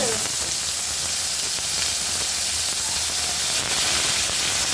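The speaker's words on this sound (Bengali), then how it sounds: "কিছুক্ষণ আমি ভেজে নেব। দিয়ে দেবো পেঁয়াজ" Onions frying in a pan for egg korma, a loud, steady sizzle and hiss of hot oil filling the whole stretch without pause.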